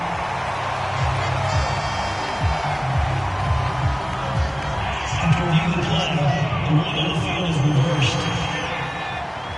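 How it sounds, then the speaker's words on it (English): Stadium crowd at a football game shouting and cheering in waves, a dense roar of voices that swells loud near the middle with whoops rising above the babble. "Plenty of shouts from this crowd as they watch the replay."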